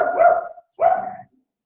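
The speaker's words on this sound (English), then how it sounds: "Just barking dog." A dog outdoors gives two loud, close barks in quick succession, then falls silent.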